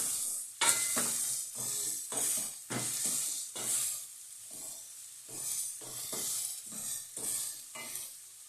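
Onions and peppers fry in a pan with salt, giving a steady sizzle under repeated scraping stirs that come in regular strokes, close by and without talk.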